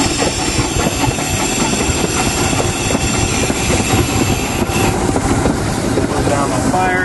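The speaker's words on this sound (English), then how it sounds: "So I'm going to open up throttle a little bit, give myself a little more fuel." Live steam locomotive on the Billy Jones Wildcat Railroad climbing a grade with the throttle opened, its dense continuous chuffing, hiss and clatter loud and close throughout.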